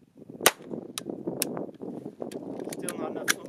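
Sharp, close shots from a Palmetto .22 LR pistol firing Mini Mag rounds, several spaced reports over a steady outdoor range rumble, with a voice in between.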